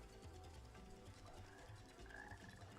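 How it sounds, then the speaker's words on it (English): A frog croaking in the Sonic Heroes video game, faint repeated low croaks pulsing in a steady rhythm against quiet ambient game sound. "I hear a frog"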